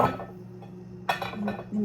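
A plate clinking in a kitchen while measuring flour for a chiffon cake, with a few sharp ceramic clinks and a faint scraping sound among quiet background noise.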